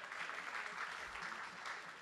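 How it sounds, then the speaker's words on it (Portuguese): Applause from an audience at a book fair as Maria and her companion Café are welcomed to mediate a talk, a steady crowd clapping texture lasting about two seconds at moderate level. "Palmas para a Maria e para o Café."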